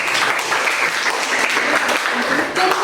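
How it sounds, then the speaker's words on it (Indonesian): Students in a classroom break into dense, lively applause that fills the moment at close range, with voices mixed in underneath. "Beri tepuk tangan dulu untuk Miftah."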